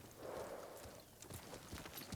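Faint rhythmic clip-clop of horse hooves trotting at a distance in the video game Ghost of Tsushima, light and even, with no voices over it.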